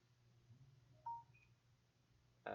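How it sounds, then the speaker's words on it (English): A Discord message notification sounds as a brief, quiet electronic blip in an otherwise near-silent room, followed by a sharper short tone at the very end. "I got a Discord message, as you might have heard."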